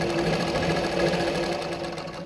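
Zig zag tailoring sewing machine sewing a straight stitch, a steady, close, continuous mechanical whir running throughout with no pauses.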